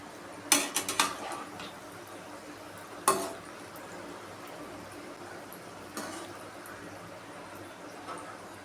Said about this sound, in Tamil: அடுப்பை சிம்மிலே வச்சுட்டு தான் இது பொரித்து எடுக்கணும்